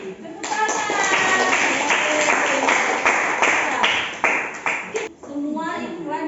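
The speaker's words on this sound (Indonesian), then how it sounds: "Tepuk tangan." Children in an Indonesian classroom clap their hands together in a steady, loud round of applause lasting several seconds, with voices chattering over the clapping toward the end.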